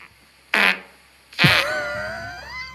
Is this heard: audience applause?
no